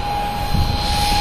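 An F-15 64mm EDF RC jet takes off on its maiden flight, giving a steady loud whine with a sustained high tone and rushing air throughout, no voices.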